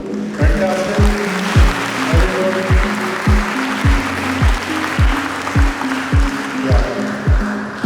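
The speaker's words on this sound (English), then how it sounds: "Now I would request all of you to clap for yourself." An audience claps at a Sankalpa event while music plays, producing steady crowd applause with a rhythmic beat running through it for several seconds.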